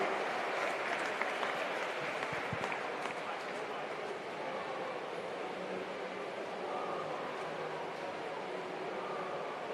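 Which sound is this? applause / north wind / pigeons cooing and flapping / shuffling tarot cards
applause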